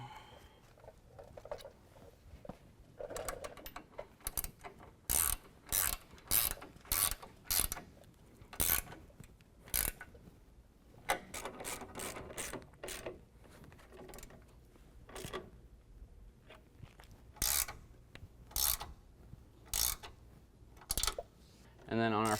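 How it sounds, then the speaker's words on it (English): A ratchet with a 19mm socket tightening bolts on a Road Armor Vaquero Guard front bumper for a 2017 Chevy Silverado, bursts of clicking pawl strokes in repeated runs, close up, with someone talking at times. "Now we can go back and tighten up all this hardware."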